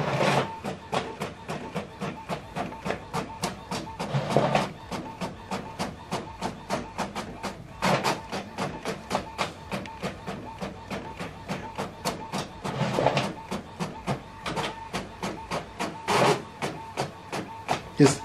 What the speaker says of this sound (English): So now this document is printing.